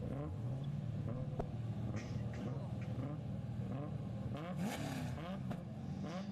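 Drift cars idle and rev at a British Drift Championship pro battle at Teesside, engines rumbling low and blipping up and down at a distance, with a faint crowd and track ambience and no clear voices.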